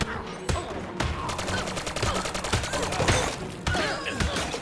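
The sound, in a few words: shotgun and Uzi gunfire in the video game Lego Batman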